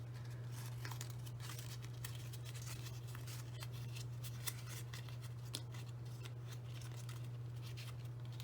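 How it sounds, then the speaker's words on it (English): A sheet of paper is folded into an origami labyrinth, with steady crisp crinkling, creasing and rustling taps close up over a constant low electrical hum. "with some strategic folding of the paper"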